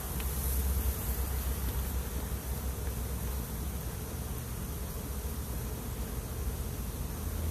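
Honey bees buzzing around an opened hive during a varroa workshop, a dense, continuous hum filling the whole stretch at close range.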